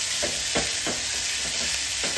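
Grated coconut filling for a sweet stuffing is sautéed and stirred in a pan, giving a steady close-up sizzle with repeated soft scraping strokes about every third of a second.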